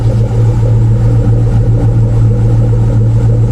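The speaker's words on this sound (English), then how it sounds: "get a little exhaust clip for you." A 1999 Ford Mustang engine idles loudly up close, its exhaust giving a steady low rumble with an even, throbbing pulse.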